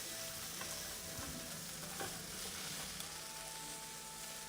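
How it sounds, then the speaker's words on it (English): Potatoes fry on a hot griddle for an American-style breakfast bánh mì, giving a steady close sizzle with occasional scrape and stir sounds, no voices. "we frying up quick on this bad boy"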